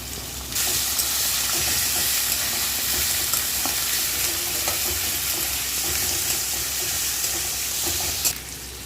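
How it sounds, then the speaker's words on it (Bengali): Loud, steady sizzling of spices frying in a hot pan for a spicy duck curry, with occasional soft stirring clicks, continuing for several seconds without talk. "এখন আমি মশলাগুলো সবই দিয়ে দেবো দিয়ে মশলাটা ভালো করে কষিয়ে নেব"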